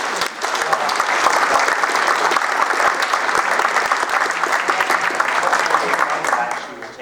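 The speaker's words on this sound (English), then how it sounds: "you should give her a round of applause for that" Audience applause at a public community forum in Lowell, Massachusetts, a loud, dense, sustained wave of clapping from a crowd that holds steady for about seven seconds before easing slightly at the end.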